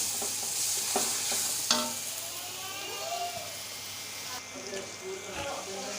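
Masala with cumin and black pepper frying in a pan for a Peshawari chana pulao, a steady soft sizzle under occasional stirring scrapes, with faint voices in the background.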